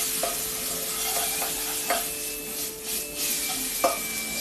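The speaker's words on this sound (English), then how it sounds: "just cooking these onions still down" Onions sizzling steadily in a pan, with a constant hiss and a few light scrapes and knocks of a utensil stirring, close and alone with no voices.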